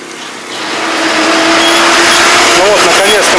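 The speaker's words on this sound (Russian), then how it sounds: "Ну вот, наконец-то мы сели на 82-й автобус." Interior of the route 82 bus in Mauritius pulling away, its engine note rising steadily and loud with a whining tone, and people talking over it.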